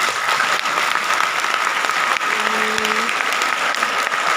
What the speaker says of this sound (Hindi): तालियां रहने दीजिए, आज आप सुन लीजिए गौर से, ये मेरे लिए तालियां हैं